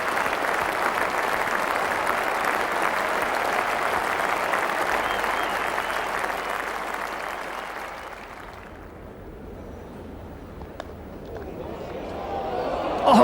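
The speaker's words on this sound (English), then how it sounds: "A standing ovation and applause from everyone on the field" Sustained applause from the crowd and players at a cricket match as a batsman reaches his hundred, a dense loud clapping wash that thins and fades after about eight seconds, with a commentator's voice underneath.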